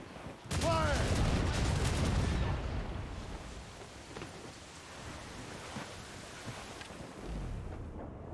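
Ship cannons in the video game Assassin's Creed Rogue fire a loud, booming broadside volley, followed by a long, rolling rumble that fades to a softer wash of noise.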